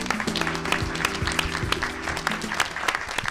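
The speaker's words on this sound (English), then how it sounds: "A round of applause for the Rockefeller Foundation." Applause breaks out at a mayoral candidates forum, a crowd clapping steadily for a few seconds with a faint tonal hum underneath and no talk over it.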